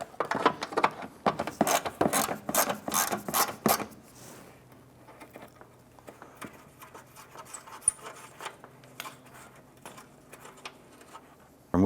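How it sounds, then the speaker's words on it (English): A ratchet removing a 10mm nut from a 2008-2013 Nissan Rogue during windshield washer reservoir replacement, a quick run of close, rhythmic clicks followed by quieter handling noises. "Remove this 10mm nut right here."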